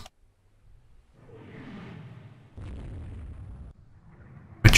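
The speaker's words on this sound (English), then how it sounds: "We're trading fire now." Naval guns firing in a ship battle in the Rule the Waves 2 game: a muffled distant boom rolls out, followed by a heavier blast and then a sharp loud report at the very end, no talking.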